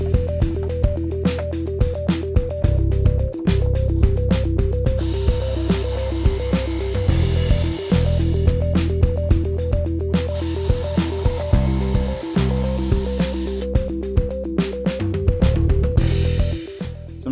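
A drill bores pocket holes into softwood through a Trend pocket hole jig, with repeated loud bursts of high whining drilling separated by pauses and clicks, close up and with no talking.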